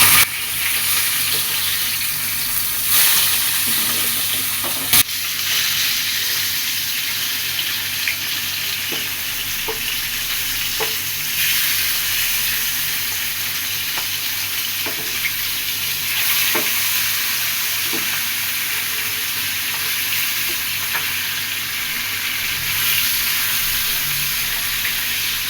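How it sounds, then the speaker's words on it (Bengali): Rui fish pieces, already browned on one side, sizzle steadily in hot oil after being flipped, a dense continuous crackle with occasional sharper pops and clicks, close and fairly loud throughout. "এখন আমি মাছগুলো উল্টিয়ে দেব।"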